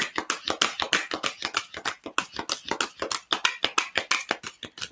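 Tarot deck being shuffled by hand, a rapid run of crisp, close riffling card slaps in an even rhythm throughout, with no talking.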